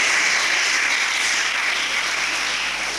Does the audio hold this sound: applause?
yes